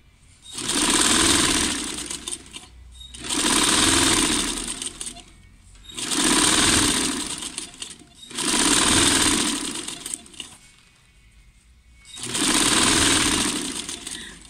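A sewing machine stitches a jacket seam in five separate runs of a few seconds each, loud and close, with brief pauses between them.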